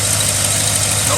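A Chevy truck V8 idles steadily after a coil replacement, a close, even rumble with no misfire or stumble, continuous throughout with no one speaking.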